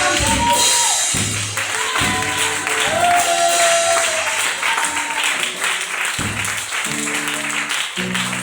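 A church congregation applauds in a steady wash of clapping while voices speak and call out over it, with a few held sung or shouted tones rising above the noise.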